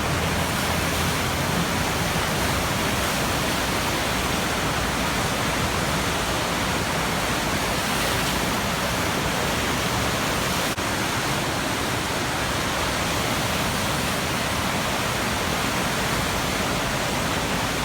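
Loud, continuous rushing water from a surfable standing river wave in a city park, heard close up as an unbroken roar with no voices over it.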